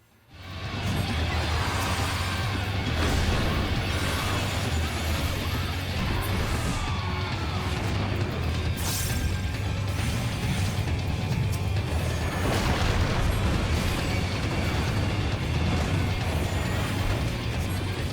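Bombs explode during the Titan trial in Final Fantasy XIV, with a few heavier bursts rising out of a constant roar of battle rumble and a low hum.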